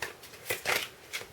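Tarot cards are shuffled by hand, a few quick riffling swishes over about a second, close and moderately loud.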